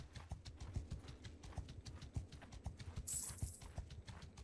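Horse hooves clip-clop in a steady, rapid rhythm in Mount & Blade 2: Bannerlord, close and fairly loud, with a brief bright hiss near the end and no talk.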